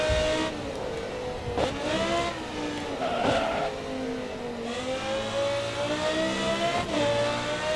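Audi race car engine in the racing video game Grid Autosport, a loud, steady revving drone with rising and falling pitch as gears shift, heard alone with no talk.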